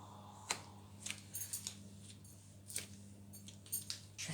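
A knife cuts through a bar of handmade six-colour soap, giving a few quiet scraping and snapping strokes spaced irregularly, close up and faint against a low background hum.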